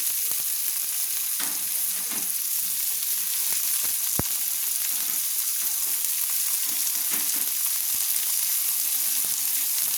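Chopped onion fries in a pan for chicken chowmein. A steady, bright sizzle runs throughout, with soft scrapes and knocks from stirring and no talking.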